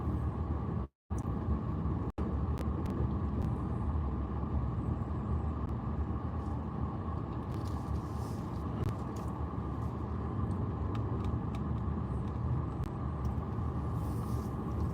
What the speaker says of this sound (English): Right now we're just driving around a little bit.